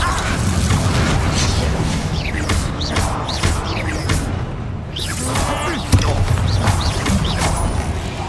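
A Confringo blasting spell explodes in Hogwarts Legacy, a dense rumbling blast amid continuous loud combat noise with booms and crashes, one sharp thud near the end.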